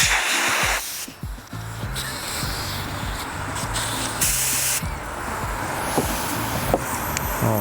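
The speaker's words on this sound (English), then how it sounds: "let's try this air gun first," A Mastercraft air blow gun spraying compressed air from a compressor line gives steady, loud hissing bursts, several blasts in a row broken by short pauses.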